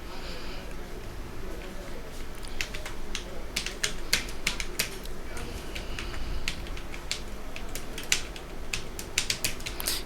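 Keystrokes on a computer keyboard while text is typed into Notepad: a steady run of light clicks, some louder taps standing out, close by over a low room hum.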